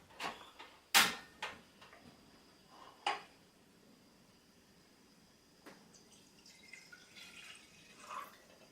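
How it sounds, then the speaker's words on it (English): Water is measured out into a kitchen pot for cheddar grits, with a few sharp clinks and taps of cups and cookware followed by quieter trickling and handling sounds, close by with no talking. "Get yourself 2 cups of water."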